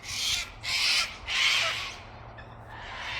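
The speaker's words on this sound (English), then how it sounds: "There's those crazy cockatoos." A flock of cockatoos shrieks outdoors, three loud raucous squawks in quick succession followed by fainter, more distant calls, with no talking.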